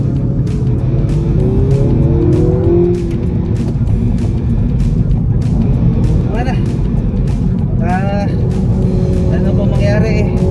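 A 2021 Mini Cooper S 5-door hatchback driven very fast, heard from inside as a loud constant engine and road roar with rising and falling revs, while people talk over it.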